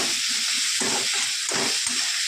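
Potatoes and tomatoes fry in a pan with a steady hissing sizzle, close and fairly loud, with a few brief bursts of stirring or bubbling.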